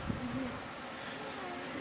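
Honey bees buzz around a sparsely populated hive that appears to have swarmed, a soft continuous droning hum with a few louder wingbeats passing close, heard faintly and without speech.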